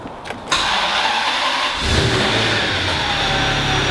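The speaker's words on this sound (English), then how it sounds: "And then we turn on this beautiful car." Ferrari 550 starting up: a starter whir cuts in before the V12 catches at about two seconds, then settles into a loud, steady idle close by with no talk over it.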